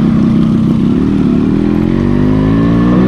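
Motorcycle engine revving hard during a four-gear race between a Yamaha RX100 and a KTM Duke 200, a loud, close, continuous roar that climbs steadily in pitch.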